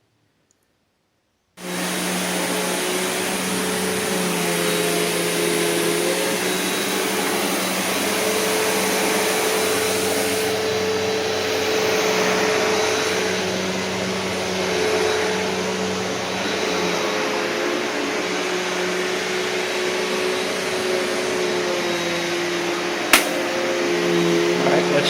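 A Simplicity Symmetry vacuum cleaner starts up and runs loudly, a steady close roaring whir with a droning motor hum and slight variations in airflow, ending in a sharp click.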